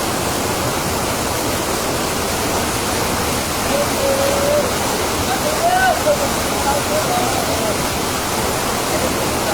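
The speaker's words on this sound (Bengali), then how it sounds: "এদিক থেকে পানি নেমে চলে যাচ্ছে" Floodwater in Feni, Bangladesh pours down a canal toward the sea with a steady, loud rushing roar throughout, like a continuous waterfall.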